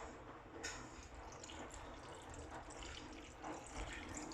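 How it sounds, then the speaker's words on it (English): Spring water pours steadily into a blender flask, a quiet continuous trickling and splashing at close range with no talking. "add your crystal infused spring water, or just spring water"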